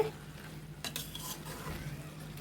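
Mixed vegetables, including purple cabbage, are stirred with spices in a pan for a vegetarian labra, with a near spatula scrape and rustle over a soft background fry and no voices.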